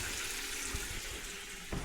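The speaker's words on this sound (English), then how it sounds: "Looks like running water." Water running from a tap in a washroom at a trail shelter, a steady rushing hiss that continues throughout, fairly faint and alone.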